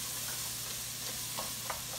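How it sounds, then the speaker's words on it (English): Onions browning in a pan give a soft, steady sizzle, with a few faint scrapes and clicks as they are stirred, quiet and close with no talking. "Most time I'll just sweat the onions down, but this time I actually want to get them brown and a nice caramelization on them"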